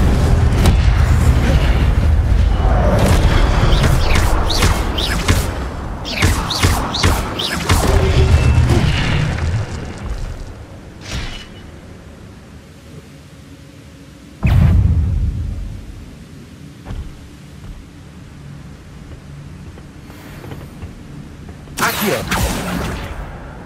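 Booming fire spells are cast again and again in Hogwarts Legacy combat against a crowd of brutes, loud heavy blasts and crashes piling up densely, then easing to sparser bursts with a final sharp burst near the end.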